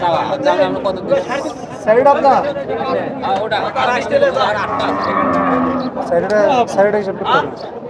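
Cattle lowing loudly and repeatedly at a crowded outdoor cattle market, the long moos rising over constant human chatter and talk nearby.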